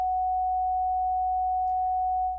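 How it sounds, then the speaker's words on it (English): A pure, steady F5 tone stands in for a pulsar spinning 716 times per second with its radio pulses rendered as sound, holding constant and clean before a quick fade at the end. "rotates 716 times per second, which would sound like an F5 tone if the radio pulses were converted to sound"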